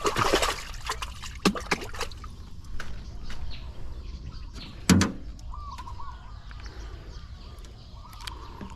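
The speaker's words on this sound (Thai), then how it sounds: "น้ำไหลลงกลางวันนะครับ" Water trickles and drips near a river while fishing, a quiet continuous flow broken by sharp splashy knocks, with faint birds in the background.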